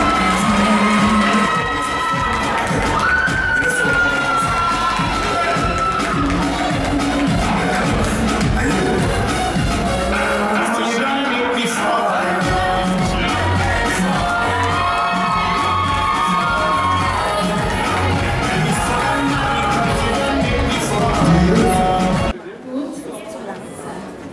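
Audience at a Miss Africa Switzerland pageant cheering, whooping and clapping for a contestant while a presenter speaks over the noise, continuous and loud before cutting off abruptly near the end.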